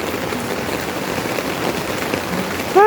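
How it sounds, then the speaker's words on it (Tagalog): Steady rain falls outdoors right after a car wash, a continuous even hiss of drops on surfaces throughout, with no talk. "It is now raining."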